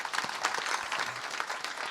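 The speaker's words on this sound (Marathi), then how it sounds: "टाळ्या वाजवा." An audience claps at an outdoor religious kirtan, a soft, scattered patter of hands heard from some distance for about two seconds.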